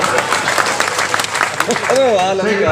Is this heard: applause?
yes